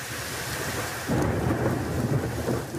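Thunderstorm over western France: steady rain hiss that swells after about a second into a loud, rolling roar of thunder, with rain continuing underneath and no voices.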